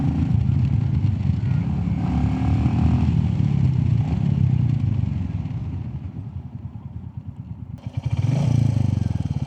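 Royal Enfield Classic 350 motorcycle fitted with a FuelX Lite and DNA air filter, a loud thumping single-cylinder exhaust revving, easing off, then picking up again near the end.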